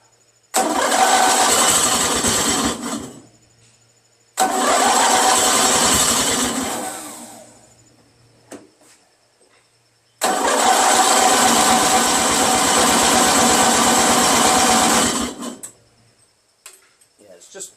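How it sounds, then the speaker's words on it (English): A flooded Briggs & Stratton 16HP opposed-twin engine cranks in three long, loud bursts of starter churning, each stopping without catching, with short pauses and faint sounds between attempts. "Yeah, it's just too much fuel, man. I'm flooding the engine every time, you know."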